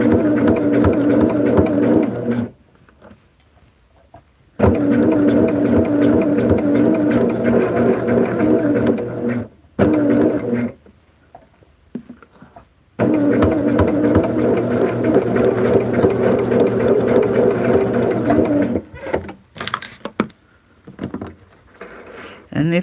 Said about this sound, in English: we're going to stitch all the way across